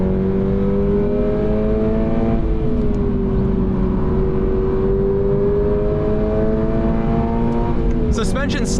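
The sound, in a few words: Subaru BRZ tS engine revving on track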